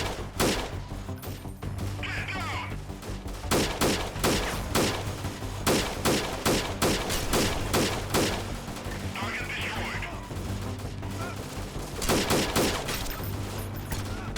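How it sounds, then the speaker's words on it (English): Bursts of gunfire in the game Freeman Guerrilla Warfare, sharp cracks and rapid volleys repeating irregularly throughout, loud and close, with occasional quieter shots between. "I'm being shot from somewhere."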